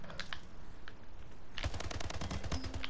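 Battle rifle fire in a sci-fi shooter video game erupts after a brief lull of faint clicks, a rapid loud burst of closely spaced shots continuing to the end.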